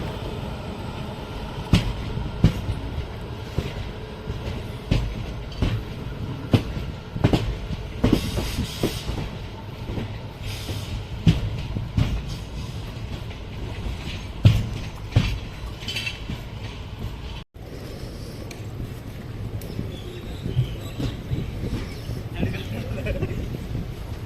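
An Indian Railways passenger train on the Rameshwaram to Chennai Egmore run rolls out of Mambalam station, with a steady rumble and irregular clicks and clanks from the wheels and couplings, heard from inside the train.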